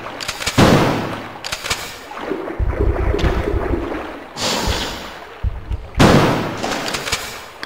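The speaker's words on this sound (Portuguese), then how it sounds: "3 tiros, mano." Three loud, booming gunshots from the video game Resident Evil 2 (Dual Shock edition). Each blast has a long, rumbling decay, and the sharp reports are spread across the clip with low in-game sound between them.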